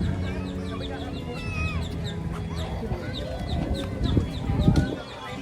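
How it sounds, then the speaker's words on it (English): Loud chicken-like bird calls, clucking and chirping repeatedly and close by, from a busy outdoor walkway at a Walt Disney World resort, with other birds and faint crowd noise around them. "There's your loud birdie"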